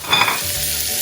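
Scallions hit a hot frying pan with soy sauce-coated vegetables, giving a loud, steady close sizzle with a brief burst of stirring clatter at the start.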